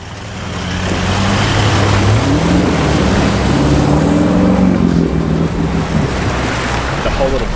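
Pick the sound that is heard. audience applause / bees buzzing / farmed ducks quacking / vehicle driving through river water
vehicle driving through river water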